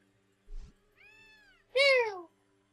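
Dusty the cat in the video game Gravity Rush gives two meows, a soft short one followed by a louder, drawn-out cry, against near silence.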